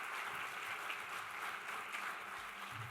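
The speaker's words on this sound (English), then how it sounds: "Let's give them one more round of applause." Applause from a pageant audience at a scholarship competition, a steady wash of clapping held at an even level throughout, fairly distant and soft with no voices over it.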